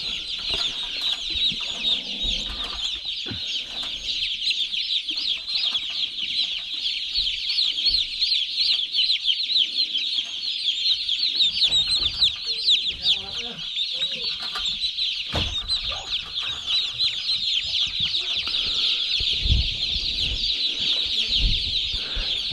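Dense, continuous peeping of about 1,000 broiler chicks in a full brooder, a constant high chirping chorus with occasional soft clucks and rustling beneath.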